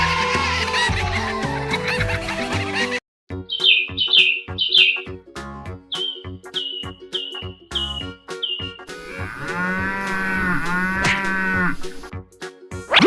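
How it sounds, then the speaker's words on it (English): Cartoon farm cows moo in a series of repeated calls, some short and clipped and one long drawn-out bellow, over a music bed and chirping birds. "The herd of cows bellowed."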